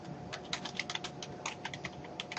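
Rapid keystrokes on a computer keyboard while entering a name for an Outlook 2007 email signature, a steady run of close, crisp clicks with uneven rhythm and no talk.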